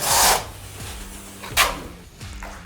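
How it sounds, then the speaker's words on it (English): Back buttering a floor tile with a trowel and modified latex thinset: a few close scraping and rubbing strokes of the trowel over the tile back, with soft knocks and pauses between them. "So I'm going to back butter."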